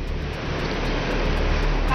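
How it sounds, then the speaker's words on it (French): Violent tsunami waves from the 2004 disaster at Banda Aceh surge toward the coast as a loud, continuous roar of surf and churning water, steady throughout and with no clear speech. "Les vagues sont vraiment déchaînées."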